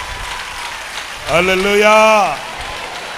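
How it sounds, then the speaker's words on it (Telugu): Steady dense clapping from a church congregation during a Sunday worship service runs through the whole clip, while a voice rises loudly over it midway. "గట్టిగా చప్పట్లు కొట్టండి."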